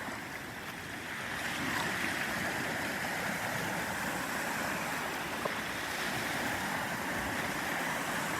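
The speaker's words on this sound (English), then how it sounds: "the waves are actually pretty impressive" Ocean surf at Pawleys Island beach, a steady broad wash of breaking waves heard from some distance, fairly faint and mixed with wind, with no voices.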